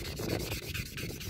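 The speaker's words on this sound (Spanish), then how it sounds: "ahora vamos a proceder a lijarlos." Someone sands rusty brake drums by hand with steady, rapid rasping strokes. The scraping is continuous, loud and close, with no voices over it.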